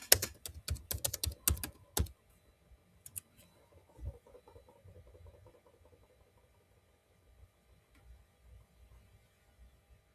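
Computer keyboard typing, a fast burst of sharp clicks over the first two seconds, then a few scattered keystrokes over a low mains hum in a quiet room.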